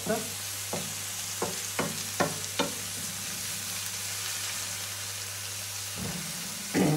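Onions, carrots and shallots sizzle steadily in an induction wok, with a string of sharp stirring scrapes early on and a few more near the end over the continuous frying hiss.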